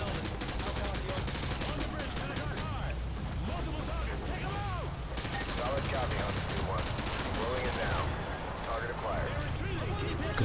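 Rapid gunfire from the video game Modern Warfare 2 during a speedrun, dense bursts of automatic shots and explosive cracks filling the whole stretch, with someone talking over the action.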